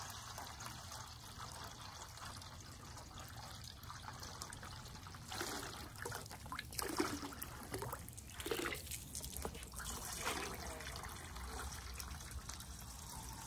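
Water pours into a dog's bowl outdoors as a quiet trickle that swells into a few louder splashing gushes midway, with steady low background hum throughout.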